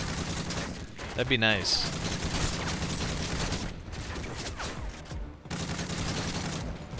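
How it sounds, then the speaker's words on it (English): Automatic gunfire from a light machine gun in Modern Warfare 3 Spec Ops Survival, with short bursts and scattered shots over game ambience and mechanical clatter, while someone comments briefly. "what is he firing at?"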